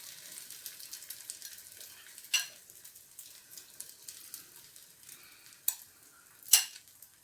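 A Spanish potato tortilla omelette with cheese fries in a pan, giving a steady soft sizzle and crackle throughout, with a few louder clicks and taps near the end, close by and without talk.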